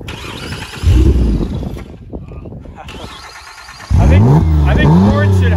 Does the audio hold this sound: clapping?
no